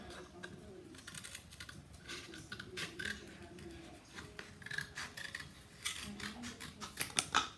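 Irregular crisp snips and crunching cuts as scissors cut through stiff cardboard, close by, growing louder and more frequent toward the end.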